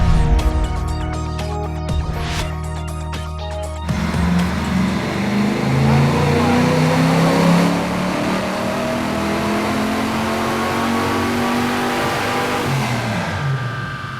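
A 1978 Chevrolet Monza Spyder supercharged by a leaf blower accelerates hard in second gear, its loud engine note climbing steadily in pitch from a sustained roar, heard up close with no talking.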